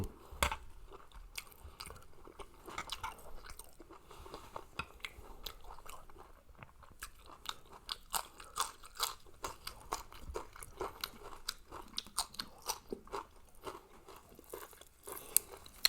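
Close, steady crunchy chewing and biting of meatballs in mushroom sauce eaten with sweet soy sauce, soft wet mouth sounds repeating irregularly for the whole stretch with no talking.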